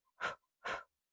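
Two short, forceful breath bursts during a mat Pilates exercise, close and clear in an otherwise silent room, evenly spaced about half a second apart.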